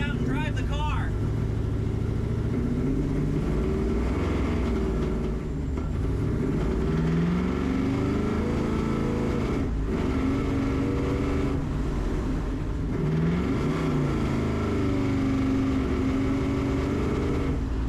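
Old hot rod with an EFI swap driving along, its engine droning steadily and rising and falling with throttle over continuous road and cabin noise.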